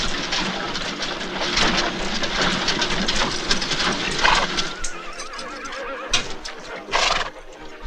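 A horse neighs and whinnies loudly in a western film scene, with shrill repeated calls over scuffling hooves and rough background commotion, close and agitated.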